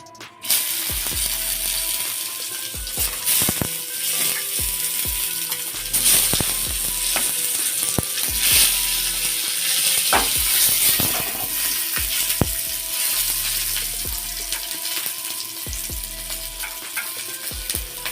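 Tomatoes and garlic sizzle steadily in hot oil for Bengali tomato pabda fish curry, a dense crackling hiss broken by sharp clinks and scraping from a utensil stirring the pan, with no talking.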